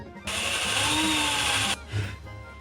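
A power drill bores a hole while a homemade cable stripping tool is being built, a steady close whine running about a second and a half before cutting off abruptly, followed by a soft clunk.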